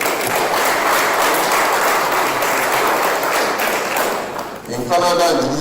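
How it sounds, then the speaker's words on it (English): Sustained applause from an audience at an induction ceremony, a dense steady roar of many hands clapping that fades briefly near the end before a voice cuts in. "A round of applause for him, please."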